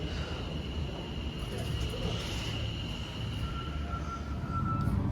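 Riding on a North Staffordshire train: a steady low rumble of the moving carriage with faint hissing and a thin tonal whine, constant and close with no clear talk.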